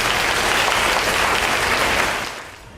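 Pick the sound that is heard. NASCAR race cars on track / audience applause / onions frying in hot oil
audience applause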